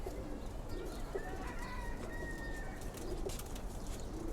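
Young Lalpatti pigeons coo softly at close range, a few low burbling coos over a faint background hum, with no talking.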